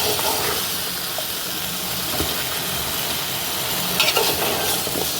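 Potatoes, beans, tomato and cauliflower are mixed with spices in a hot pan, making a close, continuous sizzling hiss with scraping stirring strokes that grow slightly louder near the end.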